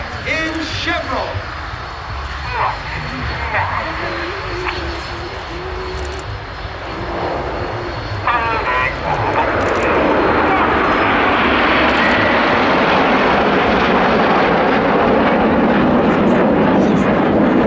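Red Arrows jets at an air show fly past from the right in chevron formation, their engine roar building from a distant rumble into a loud, sustained broadband wash that fills the second half, with a commentator talking over the early part.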